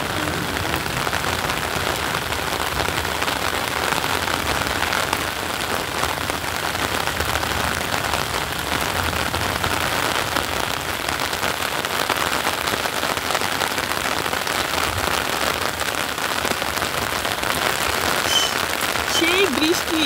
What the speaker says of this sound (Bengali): আমি শুধু বৃষ্টির শব্দ শুনছি